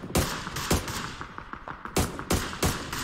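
Gunfire in the video game PUBG, with loud sharp single shots and rapid bursts cracking over about three seconds, some close and punchy, others trailing off, with no talking over them.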